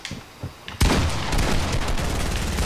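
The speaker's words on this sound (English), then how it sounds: "I keep hearing so much shooting" Gunfire in a Fortnite team deathmatch, faint shots at first, then a sudden loud burst of rapid shooting that continues as dense, sustained fire.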